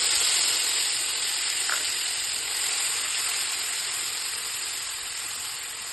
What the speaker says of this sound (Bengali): এবার পেঁয়াজ বাটা দিয়ে ভেজে নেব।